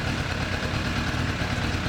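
A Suzuki Bandit 600 motorcycle engine idles with a steady, continuous rumble, close and loud, with no talking.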